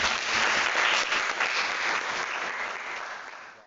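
A crowd at a clown show breaks into dense, loud applause that holds strong, then gradually thins and fades over a few seconds.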